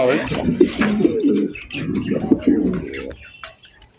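Black Lace Satin pigeons cooing at a loft, a run of low throaty coos across the first three seconds, fairly close, with some chatter and faint chirps mixed in before it tails off quieter.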